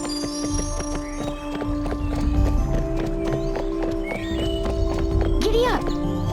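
In the Barbie Horse Adventures: Wild Horse Rescue video game, a horse's hooves clip-clop steadily along a forest trail amid busy game music, and a neigh rises near the end.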